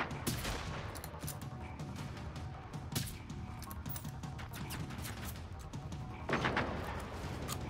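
Sniper rifle and other gunfire in the video game Generation Zero, several sharp cracks scattered across a busy, noisy battle backdrop, with a heavier burst near the end.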